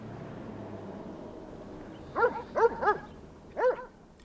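A police dog in Jordan gives four short, sharp barks in an irregular burst, heard at moderate distance over a steady background hiss.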